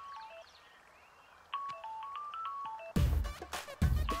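A mobile phone ringtone plays a melodic sequence of bright electronic tones, quiet at first and louder later, and is then cut off by two loud, harsh broadband bursts from the film soundtrack.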